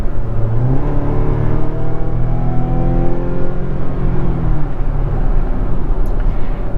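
A Mazda CX-90 PHEV's 2.5-liter turbo four-cylinder strains up a steep Vancouver hill, its engine note rising in pitch and holding a loud, steady whirring drone heard from inside the cabin.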